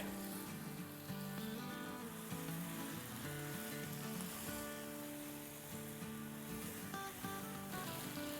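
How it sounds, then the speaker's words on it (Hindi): Baby bella mushrooms sautéing in a karahi over medium-low heat, a continuous dense sizzle and crackle of frying throughout with soft stirring movements, no speech. "अब मशरूम के साथ भूनेंगे 2-3 मिनट।"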